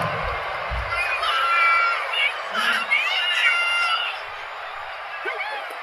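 A stadium crowd roars and cheers continuously in the WWE 2K25 wrestling game, with whoops and shrill shouts rising and falling over steady arena noise; no talk stands out.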